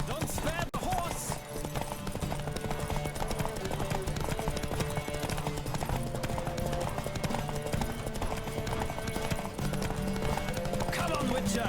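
A horse gallops in a race in The Witcher 3, with steady rhythmic hoofbeats running throughout over game music, while voices shout encouragement above the pounding.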